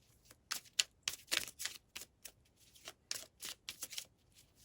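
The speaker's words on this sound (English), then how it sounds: "Sometimes cards flip and I keep shuffling." Tarot cards are shuffled close up in quick riffling bursts, crisp papery flutters with short pauses between, fairly quiet and without talk.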